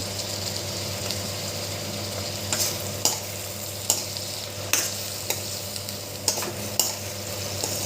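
Drumstick pieces and sliced onions cook in a pan for a drumstick curry, giving a steady close sizzle with a few short stirring clicks and scrapes scattered through it.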